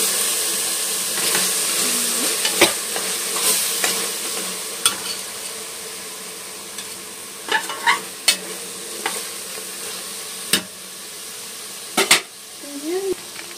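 Pulao stirred in a pan on a low stove with coriander powder added, a soft steady sizzle broken by scattered scraping spoon strokes, some sharp clanks against the pan, and faint background voice.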